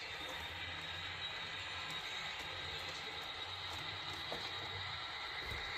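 A model train locomotive runs through a yard at a low speed notch, giving a steady, continuous mechanical hum with a low rumble underneath and no voices.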